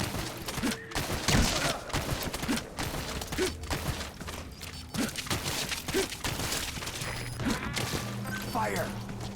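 Metal Gear Solid V gunfire pops in scattered sharp shots over a rumbling in-game soundscape, with voices speaking in between.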